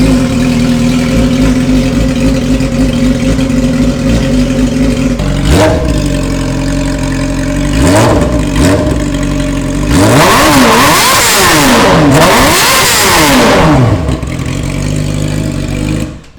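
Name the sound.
car engine revving loudly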